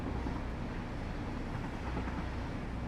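Steady rumbling of a train rolling along tracks in the factory-building game Satisfactory, a continuous low mechanical drone with no distinct clacks, heard alone.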